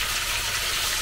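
Water trickles and pours slowly into a container in a steady, continuous hiss-like stream, close and alone, with no break across the short moment.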